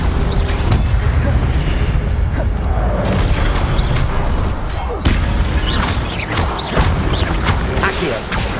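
An Incendio fire spell cast in Hogwarts Legacy erupts in a dense, loud roar of crackling blasts and rumbling impacts, close and continuous, with sharp bursts scattered throughout.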